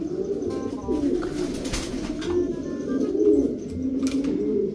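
A pigeon coos repeatedly close by, soft throaty low calls in a steady series over a busy background of other birds chirping.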